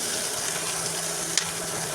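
Onion stalks and sliced green chili frying in a wok with turmeric and salt, a steady close hiss of sizzling oil with one brief clink of a utensil.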